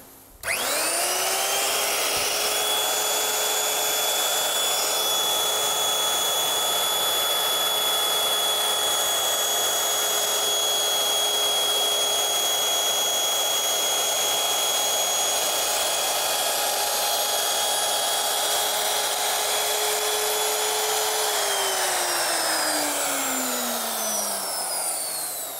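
A two-handed DCK KMR03-12 wood profile router runs with no load, spinning up with a sharp start and holding a loud steady high whine for about twenty seconds before winding down.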